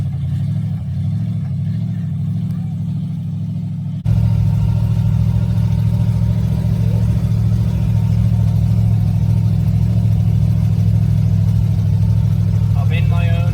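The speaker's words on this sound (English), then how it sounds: "The boys been out test driving their Chevy project." A Chevy project truck drives in low gear, its engine a steady, loud, close droning rumble that jumps up in level after a few seconds and holds a constant low hum.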